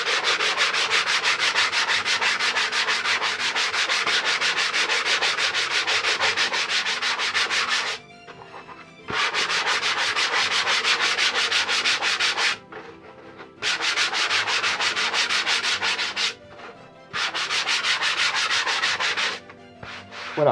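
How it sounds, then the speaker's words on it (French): Steady, close hand sanding of a painted material surface, a continuous loud scratchy rasp in long strokes with three brief pauses between passes, and no talking. "Alors je dis poncer, je dis pas attaquer la peinture, hein, c'est juste pour enlever les granules."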